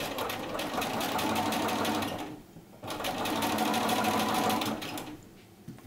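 A sewing machine stitches a set-in sleeve in two close, steady whirring runs, split by a short pause just past the midpoint, with a brief backstitch-like slowdown near the end.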